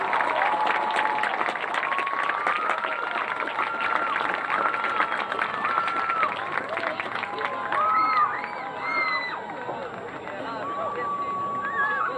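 Crowd applauding and cheering for seniors at a Manhattan High school game against Washburn Rural, a sustained wash of clapping with voices and chatter mixed throughout, steady and fairly loud.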